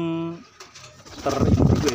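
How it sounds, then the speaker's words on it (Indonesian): Low, throaty pigeon coos rumble close to the microphone, with a brief voice at the start before the cooing swells. "Ini merpati saya juga ada nih"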